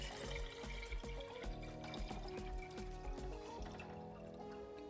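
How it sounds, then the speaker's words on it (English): Filtered water, about 32 ounces, pours into a jar of seeds in a close, quiet indoor trickle that rises in pitch as the jar fills. "you add 32 ounces of water. This is just some filtered water that I have"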